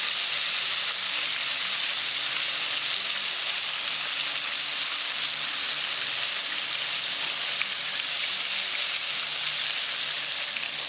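Crispy chilli fish pieces frying in hot oil, a steady dense sizzle and bubbling crackle that holds even and close throughout with no talking.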